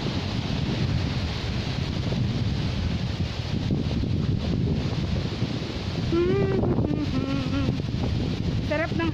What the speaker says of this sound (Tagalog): Sarap ng hangin, no?